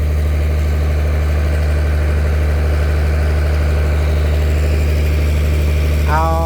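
Engine of a water pump pumping out water runs at a steady, loud, droning idle with a constant low hum throughout, close by, and a short rising whine near the end.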